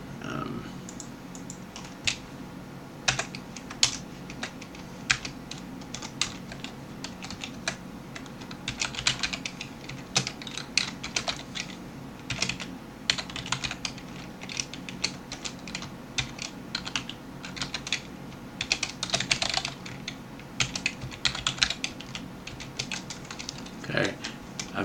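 Rapid, uneven clatter of computer keyboard keys being typed on close by, continuing in bursts with brief pauses for about twenty-five seconds.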